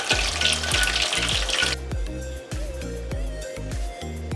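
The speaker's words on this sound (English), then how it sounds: "I've finished frying the fish." Red snapper is deep-fried in hot oil. A loud, dense sizzle fills the opening moments, then drops to a softer, steadier bubbling crackle with a rhythmic thumping underneath.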